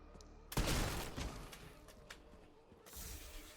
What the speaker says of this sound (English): we will shoot them in the legs